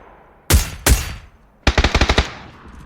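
Video game gunfire: two loud, close single shots, then a quick rapid burst of about seven shots that fades out, with no talking.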